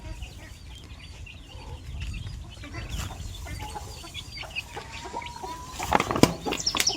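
Native country chickens in a farm coop give soft scattered clucks with bursts of wing flapping and scuffling, a few sharper calls near the end, all fairly close with no talk.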